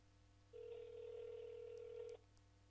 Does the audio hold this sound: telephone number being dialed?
yes